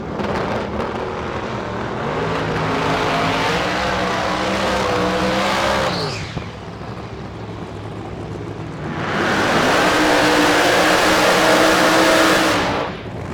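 A supercharged or turbocharged drag race car roars at the track at a Pro Mod and nitro event, its loud engine rising and sweeping as it passes, followed by a second intense blast of engine noise.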